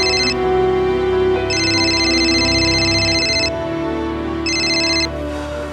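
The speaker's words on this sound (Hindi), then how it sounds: "एक काम करो, उस विकास को फोन करो।" A telephone rings in repeated electronic bursts over a low musical background, three ring bursts separated by short gaps.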